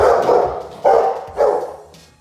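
A Rottweiler barks three times, loud, deep and close, each bark a separate burst spaced roughly half a second apart, the last fading off.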